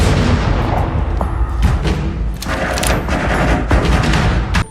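An attacking player in Fallout 76 fires loud, close bursts of gunfire, with heavy booming shots mixed into the rapid volley.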